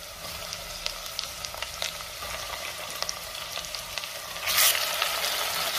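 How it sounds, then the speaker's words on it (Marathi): Mutton sautéing in hot oil over a high flame for a Satara-style spicy mutton rassa, a steady close sizzle with scattered crackles and a brief louder hiss near the end. "आता हे मटण आपल्याला तेलावरती चांगलं 5 मिनिटं परतून घ्यायचंय"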